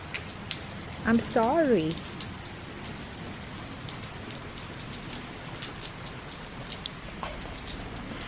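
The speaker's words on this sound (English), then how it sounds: "See? It's raining today." Rain falls steadily outdoors, a constant hiss of drops on surfaces that lasts throughout. A dog gives a brief whine near the start, and a voice speaks briefly.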